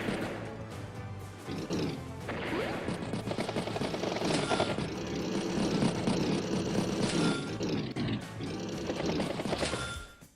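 Battle effects from the Advance Wars video game as a battleship strikes a medium tank: loud dense crashes and rapid blasts layered over game music, continuous and busy.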